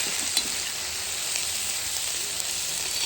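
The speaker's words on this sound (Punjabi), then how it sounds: "ਤੇ ਹੁਣ ਆਪਾਂ ਪਿਆਜ਼ ਪਾਏ ਆ ਤੇਲ ਹੈ ਬਿਲਕੁਲ ਥੋੜਾ ਜਿਹਾ ਪਾ ਕੇ ਹਲਕੇ ਜਿਹੇ ਪਿਆਜ਼ ਫਰਾਈ ਕਰਾਂਗੇ" Onions fry lightly in a little oil, giving a steady, close sizzle that holds an even level throughout with a couple of brief crackles and no voices.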